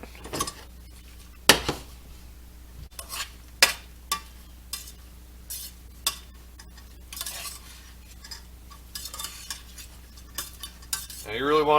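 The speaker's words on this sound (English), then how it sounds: "Now you really want to stir it up" A utensil stirs peppers, tomatoes and cumin in a medium saucepan over medium heat, making irregular metallic clinks and scrapes with a faint sizzle underneath and a louder scraping burst at the end.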